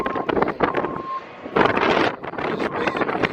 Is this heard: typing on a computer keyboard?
no